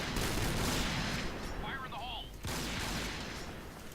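CheyTac sniper rifle fire in the Point Blank video game, a loud dense burst of gunfire that fills the clip, briefly dips near the middle and then resumes at full strength, with faint game sounds underneath.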